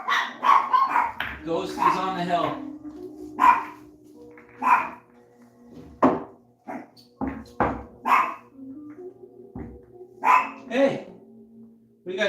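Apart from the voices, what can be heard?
chihuahuas barking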